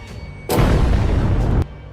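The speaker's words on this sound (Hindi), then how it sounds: "उनके पास जा और फट जा" A bomb blast as a boy blows himself up, a single heavy boom with a rumbling body lasting about a second before cutting off, loud and close.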